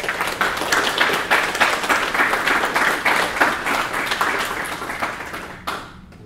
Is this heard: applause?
yes